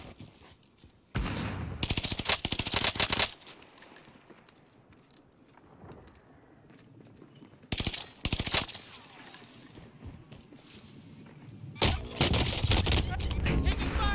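Gunfire in the video game Call of Duty Modern Warfare II, loud dense bursts of automatic fire in three separate volleys separated by quieter stretches of game ambience.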